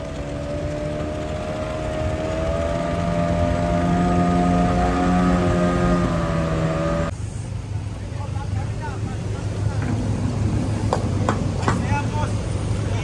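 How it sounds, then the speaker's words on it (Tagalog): A boat engine warms up on the Marikina River during a search and rescue operation, a steady droning hum with a shift in pitch midway, while people talk nearby. "umiinit pa lang yung makina nung isa"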